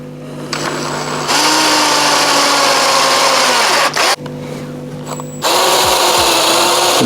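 Power drill boring into the glass of a Fluval aquarium, a loud steady motor whine that starts, cuts out briefly, then resumes with a shifting pitch.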